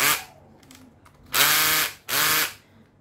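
A Japanese cordless drill whirs at slow speed in two short bursts of about half a second each, close and fairly loud, separated by quiet pauses.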